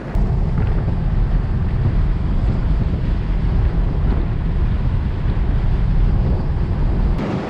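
Heavy wind buffeting roars steadily around the microphone inside a Lexus LC V8 convertible cruising at speed, a dense, loud rush with no talk.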